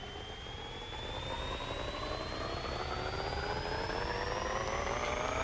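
A bagged Nissan 300ZX Fairlady in Pixel Car Racer revs up on a dyno, its engine tone climbing smoothly in one long sustained pull, loud and even with a high whine rising steadily.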